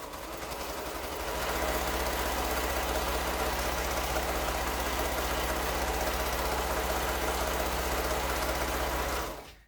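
A sewing machine stitches quilt fabric pieces together in one steady, fast, loud mechanical run lasting several seconds, close by, before it stops abruptly. There is no talking.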